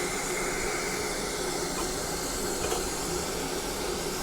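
A narrow gauge steam locomotive runs on a forest railroad, giving a steady broadband hiss and rumble throughout with no distinct chuffs, heard close and continuous with no talking.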